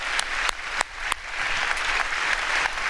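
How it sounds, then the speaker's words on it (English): A conference audience claps for a guest, with several sharp loud claps at first before it settles into steady, even applause from the crowd. "David, Let's give you an applause first"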